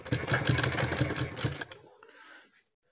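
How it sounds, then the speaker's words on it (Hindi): A sewing machine runs a quick, even stitch along a folded fabric cuff turned about half an inch, a close, steady mechanical rattle lasting under two seconds before stopping and trailing into quiet. "एक पैर की सिलाई लगाते हुए ले जाना है इस तरीके से"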